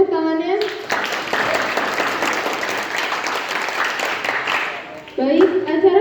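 Sustained audience applause fills a seminar hall for several seconds, dense and steady, with talk before and after it.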